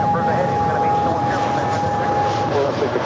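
Delta Airlines Airbus A319 airliner at Los Angeles airport, a steady broadband jet roar filling the clip at moderate distance, with a tonal whine running through it and voices talking over it.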